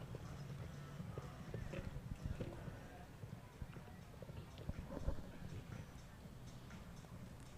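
Horse hooves thud and clop in an uneven rhythm during a 1.50 m show jumping round at a CSI 5* event, with steady arena murmur and faint voices underneath.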